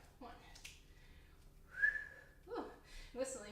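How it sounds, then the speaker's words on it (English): A person whistles a short, rising note, with voices talking before and after it. "Ooh, whistling."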